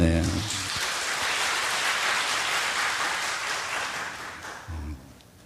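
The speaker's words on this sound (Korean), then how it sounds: "박수 한번 합시다." A Sunday-service congregation claps in a dense, even round of applause that gradually fades, with a voice cutting in briefly near the end.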